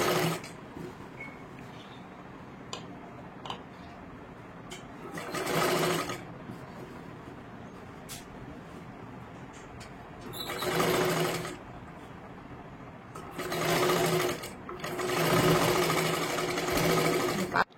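A sewing machine runs in short bursts while stitching a size 34 katori blouse, with several brief separate runs and quiet handling between them, close and clear.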